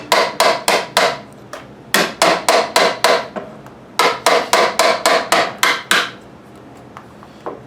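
A chisel is struck with a mallet while shaping wood on the back of a one-piece guitar neck, giving loud, sharp, evenly spaced knocks in three bursts of about six blows each, close up and with no talking.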